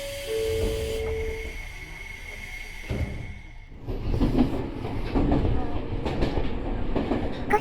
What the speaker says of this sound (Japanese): 小金城市駅を出た若葉号は、松戸市と流山市を流れる坂川を渡り、今度は流山市に入ります。